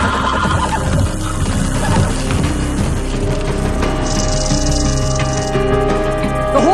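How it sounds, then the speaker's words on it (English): A horse neighs in a dramatic storm scene, its whinny rising over a dense, loud bed of music and rumbling background noise. "The horse!"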